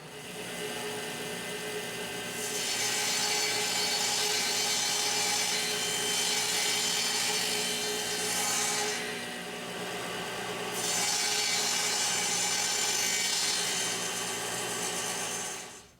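Table saw with a vertical blade cutting a dovetail in reclaimed oak, the motor humming steadily while the blade bites into the wood in two long, loud cutting passes with a short dip between them.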